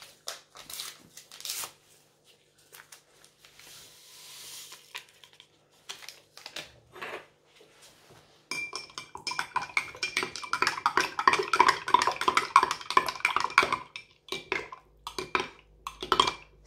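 A spoon stirs dry yeast into lukewarm milk in a bowl while preparing burger bun dough, with light clinks first, then a longer stretch of quick, rapid scraping and tapping against the bowl.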